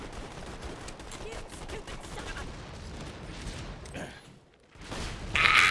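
Explosions and gunfire roar in a Borderlands 2 firefight, with a dense, continuous barrage of bursts and booms. A brief lull comes before a louder blast near the end.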